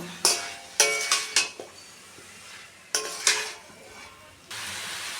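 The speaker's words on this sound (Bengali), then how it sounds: "এখন আমি দিয়ে দিচ্ছি সেদ্ধ করে রাখা আলু আর কলার মোচা আবারও মিশিয়ে নেব" Boiled potato and banana flower are stirred in a pan, with several sharp spatula scrapes and clanks against the metal over a low sizzle, close by and without speech.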